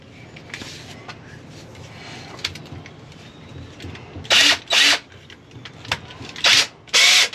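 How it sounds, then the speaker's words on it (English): An electric drill whirs in four short, loud bursts, with light clinks and handling noises before and between them. "Drill."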